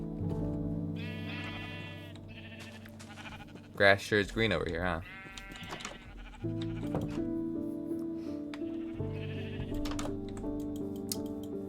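Repeated sheep bleats from a video game, with several wavering calls and one louder, close cry in the middle, under a steady low game tone, while someone speaks briefly.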